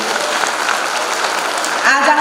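A contest audience gives a dense burst of steady clapping for fifteen participants at a grand finale on stage, loud and continuous, with a faint whistle near the end.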